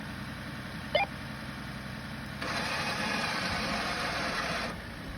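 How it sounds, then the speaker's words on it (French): A Red Winches winch on a Grenadier 4x4 winding in, with a steady mechanical whir that rises for a couple of seconds, then eases back to the low engine hum underneath. "Écoute le treuil, comment il fonctionne"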